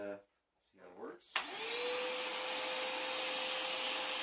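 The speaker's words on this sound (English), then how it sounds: "We're going to quick vacuum up a little mess that the cat made over here." A Koblenz WD-2.5 portable wet/dry vacuum, 2.5 gallon and 2.5 HP, switches on after a brief voice and runs with a loud, steady motor whine and airflow roar.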